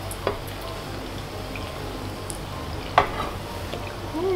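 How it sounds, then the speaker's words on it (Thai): Rainbow cheese balls deep-frying in plenty of hot oil, a low steady sizzle with a few soft pops and one sharper crackle midway, close and alone. "แล้วก็ทอดจนเหลืองทองค่ะ"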